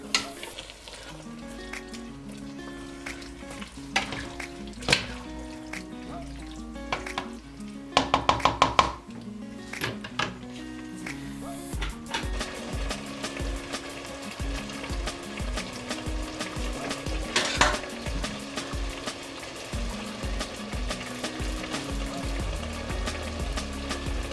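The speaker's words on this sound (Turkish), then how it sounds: "Domatesin çiğ tadı gidene kadar iyice böyle kavuracağım arkadaşlar" Tomatoes with sugar sauté in a pan for a minced-meat and green bean dish, a steady sizzle with occasional stirring and utensil taps under background music.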